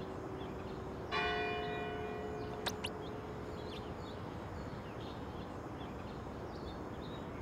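A clock tower bell in the video game Magical Mirror starring Mickey Mouse rings once with a clear tone that fades slowly over quiet ambience, with a brief chime partway through.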